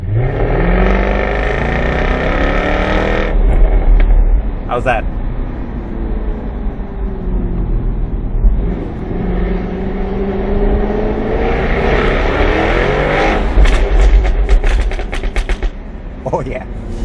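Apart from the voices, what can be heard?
Jaguar F-Type V6 S active exhaust revving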